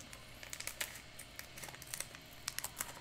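Scissors snipping open a foil One Piece card game booster pack, a run of faint close crinkles and small sharp cuts in irregular bursts.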